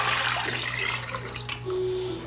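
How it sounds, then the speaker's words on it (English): Homemade vegetable broth poured into a soup pot for vegetarian Haitian soup joumou, a steady liquid rush over a constant low kitchen hum, fairly loud and close throughout. "So we adding in our vegetable broth like that."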